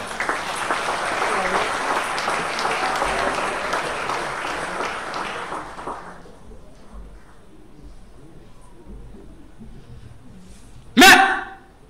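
Applause from the audience at a church family conference on managing the home, a steady crowd clapping for about six seconds that then fades out, leaving quiet room tone and a sharp short sound near the end.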